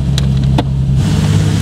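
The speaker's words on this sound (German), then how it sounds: "Das ist einfach der Motor." A classic Ford car engine at the Classic Days show at Schloss Dyck runs with a steady, close, loud low drone for a short moment, with no talk.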